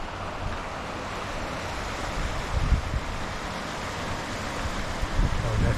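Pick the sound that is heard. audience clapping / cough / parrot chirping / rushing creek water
rushing creek water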